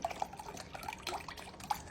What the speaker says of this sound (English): So I'm using about 1 cup of some chicken broth and I'm just going to pour it right on top